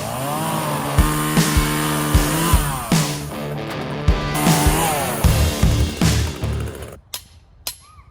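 Chainsaw at work in a garden cleanup, with a steady running drone broken by repeated heavy revving surges roughly every second, then cutting off near the end and leaving a few sharp knocks in a quiet yard.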